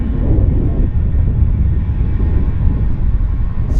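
Steady loud roar of a passenger aircraft at Vancouver YVR airport, a broad low rumble holding constant throughout with no voices over it.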